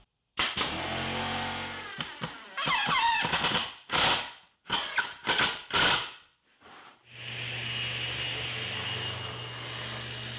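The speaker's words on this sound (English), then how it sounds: "I'm using the nail gun to tack these together and just hold everything in place" A pneumatic nail gun tacks wood pieces together for a mid century modern end table, firing in several sharp separate bursts with pauses between them, followed by a steady hum.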